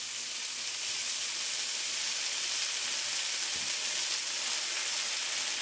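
Onions sautéing in a pan for a hoagie sandwich, a soft continuous hiss of sizzling, even and low in level for several seconds, heard alone without talk.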